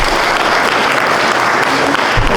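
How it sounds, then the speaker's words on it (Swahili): An audience at a youth economic empowerment project event claps in sustained, dense applause, steady and fairly loud throughout. "Tumpigie makofi."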